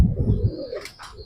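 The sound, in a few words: pigeons cooing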